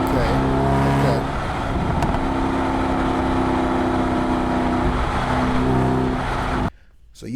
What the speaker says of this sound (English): this is an engine that respects a higher gear to really showcase its powers, because it's not revving super high